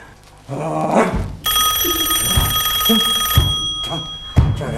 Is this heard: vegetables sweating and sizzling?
no